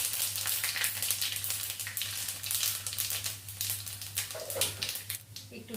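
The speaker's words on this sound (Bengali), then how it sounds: "মশলাটা একটু ভেজে নেব।" Cloves and panch phoron spices frying in hot oil for a khichuri, a steady close sizzle with light crackles that runs throughout, with a low hum beneath.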